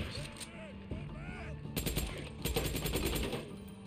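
Automatic gunfire in the video game Days Gone, rapid bursts of shots rattling through a busy battle mix, with a talking voice over the first part before the firing grows louder and denser.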